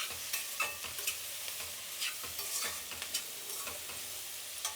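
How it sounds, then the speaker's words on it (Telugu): Carrots and onion frying in a pan over a low flame give a steady, close hiss of sizzling, broken by irregular scrapes and taps of stirring, with no voices. "సిమ్లో పెట్టుకొని వేయించుకోవాలండి."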